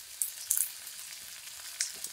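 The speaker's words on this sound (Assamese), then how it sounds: "অকণমান সময় ভাজি ৰঙচুৱা হ'বলৈ দিম" Sliced onion frying in hot mustard oil, a faint, crackly sizzle with a few sharper pops and spits, no voices.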